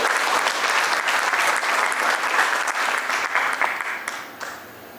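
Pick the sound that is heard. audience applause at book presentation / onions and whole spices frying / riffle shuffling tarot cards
audience applause at book presentation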